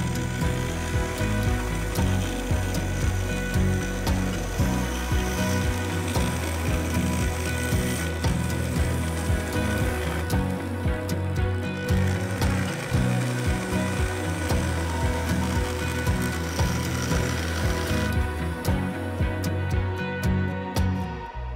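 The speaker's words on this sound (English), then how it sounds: "I used a freshly sharpened bowl gouge to remove around 1/8 of an inch of material." A freshly sharpened bowl gouge cuts into a yew vase blank spinning at high speed on a wood lathe, giving a steady, loud, continuous scraping whir that holds throughout with no talking.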